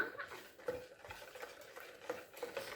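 Apple cider donut batter being stirred by hand in a bowl, with soft, steady scraping and mixing strokes at close range, fairly quiet and continuous with no talk.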